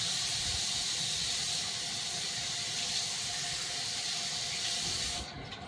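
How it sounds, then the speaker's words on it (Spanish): Water pours steadily from a sink tap in a bathroom, a loud, continuous hissing rush lasting about five seconds before it drops off sharply as the tap is shut. "Pero apague el grifo cuando está terminado."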